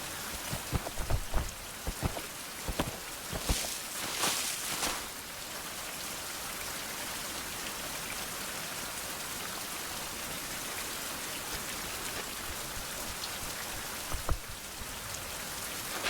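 Steady heavy rain in the 16th-century survival game Survival: Fountain of Youth, a dense continuous hiss with a few sharper crackles and rumbles early on.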